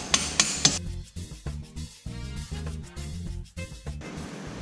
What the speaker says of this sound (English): And then the punch and the hammer, and we're going to hammer this out.